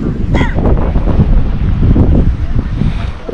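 Strong wind buffets the microphone in a loud, continuous low rumble with gusty swells, outdoors at sunrise, with faint voice-like sounds partly buried in the roar.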